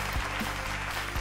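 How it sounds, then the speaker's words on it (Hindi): Steady audience applause at the grand finale of a rap battle show, a dense continuous wash of clapping with no pauses, moderately loud, and a few crowd sounds mixed in. "बहुत सही तालियां।"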